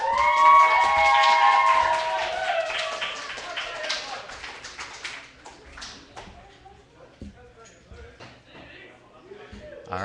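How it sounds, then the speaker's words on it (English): Audience applause at a poetry slam, with claps and some cheering, loud at first and tapering off into scattered clapping and crowd murmur. "But first, another big round of applause for Phoenix"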